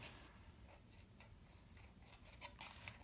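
Scissors snip through material to cut out an ooze shape for a craft build, a soft, quiet run of repeated close cuts with no talking.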